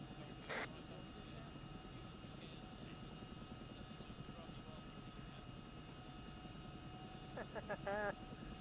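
A helicopter airframe's engine and rotor in the Arma 3 video game, a steady low rumbling drone throughout with a few brief radio-like chirps over it.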